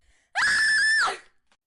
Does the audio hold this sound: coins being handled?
no